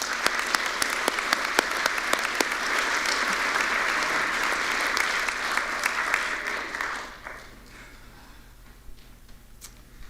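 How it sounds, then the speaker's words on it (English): A crowd at a community center grand opening claps in a full, steady round of applause for about seven seconds, then it thins out and drops to faint scattered claps and room noise. "So let's give them a round of applause."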